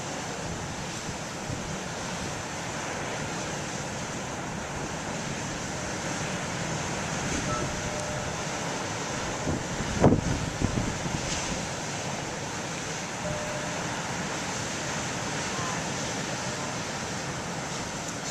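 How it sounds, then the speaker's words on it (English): Big ocean waves crash on a windy morning, a steady roar of surf mixed with strong gusts buffeting the microphone, with one sharper crash of water near the middle. "I'd like to get close to the waves, but then the wind blows"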